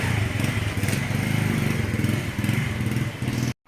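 A motorbike engine runs close by with a steady, slightly throbbing rumble, then cuts off abruptly at the end.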